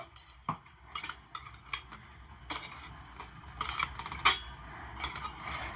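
Steamed taro leaf parcels lifted one by one from a steaming pot into a vessel, giving scattered light clinks and taps of utensils against metal, fairly faint and intermittent with no talk.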